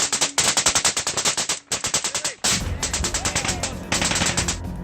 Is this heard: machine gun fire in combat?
yes